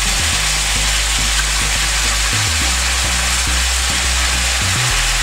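Tomatoes with turmeric and spices fry loudly in a pan for beetroot curry, a dense, steady sizzle close by, under a low droning hum with occasional soft clicks.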